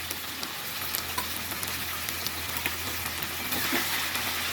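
Chili paste sizzles steadily in a pan with already-fried ginger, garlic, coriander and cumin for chicken biryani, a continuous close crackle with faint stirring and no talk.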